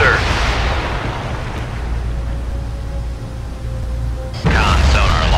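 A submarine in the naval game Cold Waters fires torpedoes from its tubes, one deep muffled boom at the start and another heavy launch thump near the end, with low rumbling in between and radio-style voices underneath.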